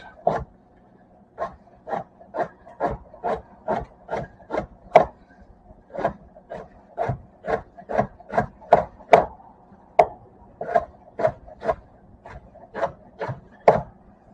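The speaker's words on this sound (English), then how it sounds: "Just want to cut some nice thin strips." Knife cutting green chili peppers into thin strips on a wooden board: steady rhythmic chops, about twenty crisp taps in quick runs with short pauses, close and clear with no talking.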